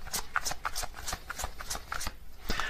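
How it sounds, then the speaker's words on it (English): Tarot cards are shuffled and drawn by hand at close range, a quiet run of crisp flicks and soft slaps that falls into a loose rhythm, with no talking over it. "let me get a couple more cards for their characteristics"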